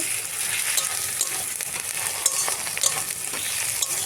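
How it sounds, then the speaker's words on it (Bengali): Tomato and garlic stirred in a hot frying pan for a chicken dish, an even crackling sizzle with intermittent scraping of a spoon, close up and steady without any talking. "টমেটোটা দিয়ে নাড়বো"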